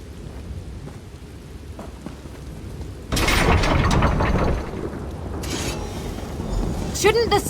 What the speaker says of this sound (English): How often are we going to see a tempest like this in one lifetime?